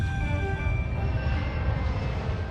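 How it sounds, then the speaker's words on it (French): A Korean Air cargo airliner flies low overhead, a loud, dense roar of jet engines with a steady rumble and faint whining tones, sustained without a break and with no voices. "Quand j'ai entendu le bruit d'un avion,"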